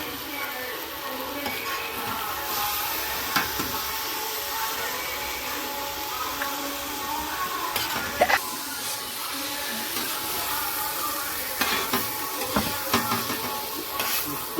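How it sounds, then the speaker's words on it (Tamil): Chicken kothu parotta with two eggs is stirred and fried in a pan, a steady sizzle with scattered scraping and clinking from the utensil, continuous and moderately loud. "இப்போ நம்ம நல்லா மிக்ஸ் பண்ண போறோம்."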